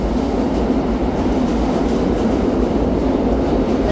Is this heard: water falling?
no